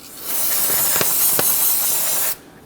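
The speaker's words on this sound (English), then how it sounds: "I'm going to go ahead and spray this down with some solvent." A steady, loud aerosol spray of solvent hisses for about two seconds up close on a 2011-2015 Kia Sorento's front brake area, then cuts off abruptly.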